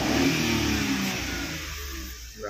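A DA16T manual 4x4 engine revs up loudly and close, then winds down toward a settling idle.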